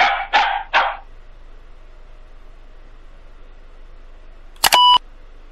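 Three quick cartoon dog barks from the Dora the Explorer Click & Create PC game ring out close and clear in a fast row, followed after a quiet gap by a short electronic beep-and-chime effect.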